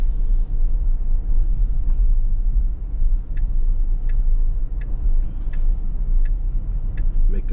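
A 2024 Tesla Model S cruises on the highway, heard from inside the cabin as a steady low road rumble and tire drone with faint small clicks.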